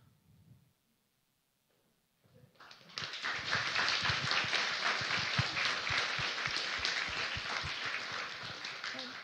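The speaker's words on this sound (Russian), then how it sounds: "это вполне годится как э, финальный аплодисмент" Audience applause after a lecture on genomic data and human origins, rising after a brief near-silent pause into sustained, dense clapping from a roomful of listeners.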